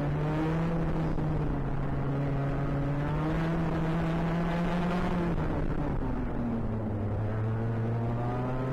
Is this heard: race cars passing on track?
yes